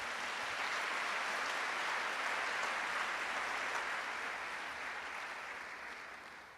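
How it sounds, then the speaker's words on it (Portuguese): Sustained congregational applause filling a Sunday church service, a dense steady wash of many hands clapping that holds evenly, then gradually tapers off toward the end. "Dá um aplauso ao Senhor."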